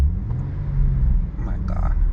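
A car passing on the road beside a Nissan 370Z, a low rumbling swell of road noise that rises and fades over a couple of seconds, with a voice speaking over it.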